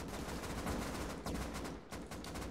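Sustained automatic gunfire in the survival video game Rust, dense rapid bursts filling the whole stretch with brief dips between volleys, loud and close with no talk over it.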